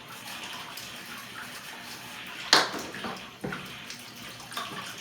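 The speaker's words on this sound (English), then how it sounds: "We'll get a little cold water going in here." Cold tap water runs into a cafe undersink P-trap during a drain ream-out, a steady close splashing flow with a sharper gush and a couple of clunks midway.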